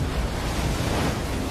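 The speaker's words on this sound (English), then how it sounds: "It's called a rogue wave." Open-ocean water roars in a dense, continuous wash of breaking surf and wind, loud and steady throughout, with no talking and no distinct single crash.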